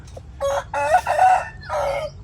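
A chicken on a garden farm lets out a short burst of clucks followed by a loud, close crow in several ringing pulses, heard alone with no talking.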